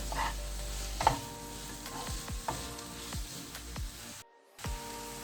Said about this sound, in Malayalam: ഇനി ഇത് നന്നായിട്ട് നമുക്കിത് നല്ലതായിട്ട് ഒന്ന് വഴറ്റിയെടുക്കാം.